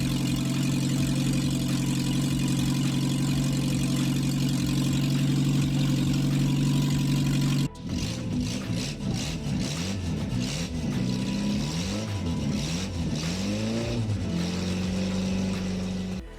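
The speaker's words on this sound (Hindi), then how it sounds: "ये गाड़ी के स्टार्ट होने की तैयारियां हो रही हैं" A Suzuki Margalla car engine cranks and holds a steady hum, then catches and revs in repeated rising and falling sweeps, loud and close with no talk.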